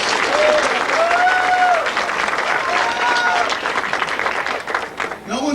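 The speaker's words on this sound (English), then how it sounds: "Give her a big round of applause" A comedy club audience bursts into a big round of applause, with thick, sustained clapping and a few bright whistles cutting through near the start before the noise starts to thin out.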